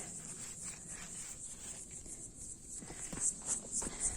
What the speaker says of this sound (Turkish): Bakın Ağustos böceği gelmiş.